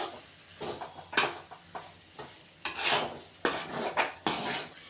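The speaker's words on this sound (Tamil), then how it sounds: "அந்த சூடான வடித்த சாப்பாடை இதில் போட்டு நல்லா மிக்ஸ் பண்ணிக்கோங்க" Hot cooked rice is mixed into a tomato mixture in a pan, with a series of metal spoon clanks and scrapes in an uneven rhythm over a faint sizzle, close by.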